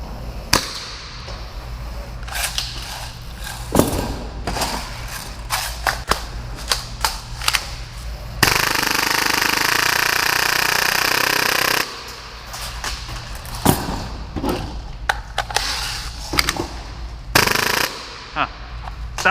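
A full-auto Hi-Capa airsoft pistol runs at 30 rounds per second, sounding as sharp rapid clicks and pops in bursts, with one loud, dense sustained burst of roughly three seconds in the middle. Close and loud, with no voices.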